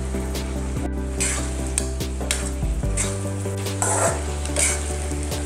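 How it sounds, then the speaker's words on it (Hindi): Peanuts and cluster beans sizzle steadily in a hot pan while a utensil stirs them, with scraping strokes and light clinks over a constant frying hiss, close and fairly loud, and no talk. "देखिए मैं ऐसे मिक्स कर रही हूँ मूंगफली और इस सारे मिश्रण को।"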